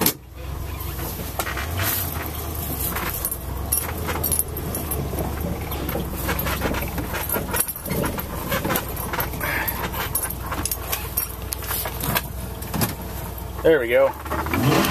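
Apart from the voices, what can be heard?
1987 Ford F350 truck cold start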